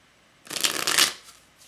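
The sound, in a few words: shuffling tarot cards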